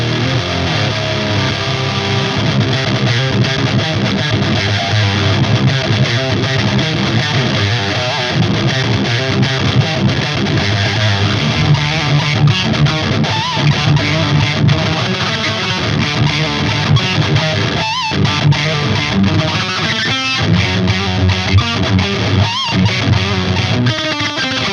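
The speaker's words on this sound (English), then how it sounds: "I'm gonna start off with engaging the heavy metal pedal as just a boost" Electric guitar through a Behringer HM300 heavy metal pedal used as a boost into an amp's distortion channel, loud saturated riffing and sustained chords played continuously throughout, no talk.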